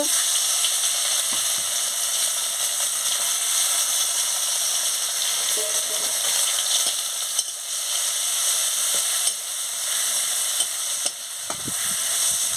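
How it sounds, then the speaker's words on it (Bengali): Dried red chillies and garlic paste sizzle in hot oil in a pan, a loud, steady crackling hiss running throughout, with occasional clinks and scrapes of stirring. "তেল গরম হয়ে গেছে শুকনো লঙ্কাটা দিয়ে দিচ্ছি রসুন বাটা দিয়ে দিচ্ছি"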